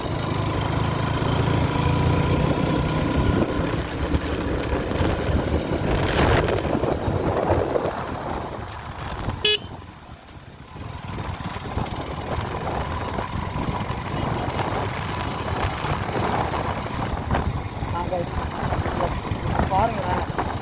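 A KTM RC200 GP Edition motorcycle rides along a road, its engine droning loudly and continuously under heavy wind buffeting with a brief dip midway, while a rider talks over it.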